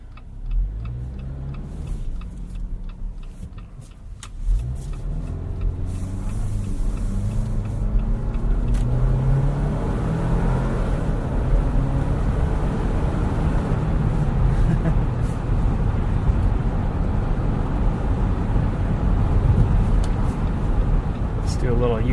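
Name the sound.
2019 Jeep Wrangler Sahara four-door driving on snow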